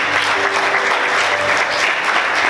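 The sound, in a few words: congregation applause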